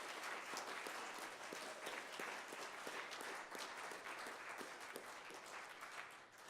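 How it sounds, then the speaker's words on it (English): A crowd applauds volunteers at a 16th anniversary gathering: continuous, even clapping from many hands, moderately distant and faint, sustained throughout before easing slightly at the end. "So a round of applause for all our Hoshi volunteers."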